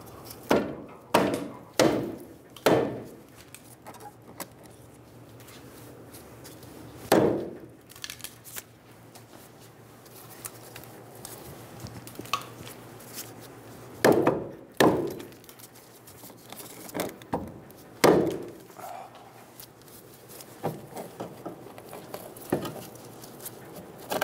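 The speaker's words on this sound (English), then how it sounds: "Using a saw face hammer, we're going to hit the top of the knuckle and pull it off of the strut." A saw face hammer strikes the top of a steering knuckle on a 2000-2007 Ford Focus front suspension, separating it from the strut; sharp metallic blows come in a quick burst early, then scattered single hits with quieter shop noise between.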